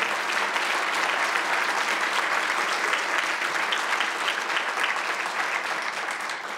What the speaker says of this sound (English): let's give a big round of applause for those teachers that do what they do for our kids